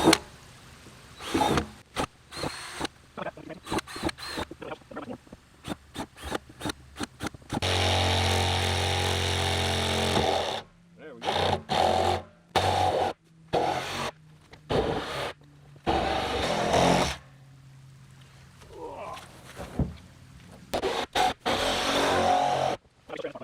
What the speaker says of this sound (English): Alright, now we'll move on to our bigger drill bit.